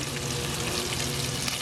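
Steady crackling sizzle of food sautéing in a hot pan, continuous and close, with no voices.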